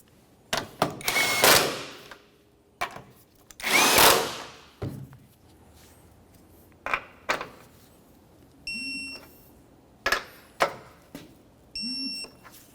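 Power tool spinning control arm mounting nuts on a 1994-1997 Honda Accord, a series of short, sharp rattling bursts separated by pauses, with a few faint electronic beeps between them.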